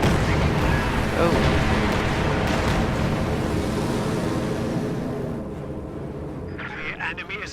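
Rocket artillery strikes in a multiplayer strategy war game land in a heavy, continuous rumble of explosions that slowly fades, with a few lighter crackles as it trails off.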